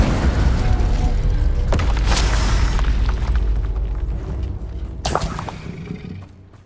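An Incendio fire spell goes off in Hogwarts Legacy with heavy booming blasts over a dense rumbling battle din, and a second sharp burst follows a few seconds later before the noise fades.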